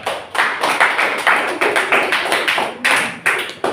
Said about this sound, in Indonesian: beri aplaus untuk kita semua